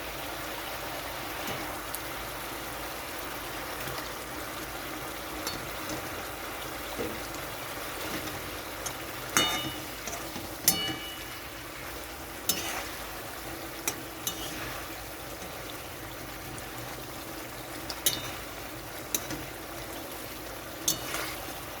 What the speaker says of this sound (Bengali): তো মাছটা দিয়ে একটু ফোটানো হয়ে গেছে